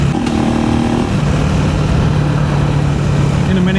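A KTM 390 Enduro R motorcycle engine runs steadily up close, its pitch rising slightly as the throttle opens, with heavy wind and road roar throughout and no talk.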